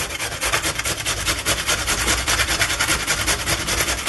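Potatoes being grated on a handheld grater give a continuous rasping scrape in quick, regular back-and-forth strokes, close and fairly loud, with no talking.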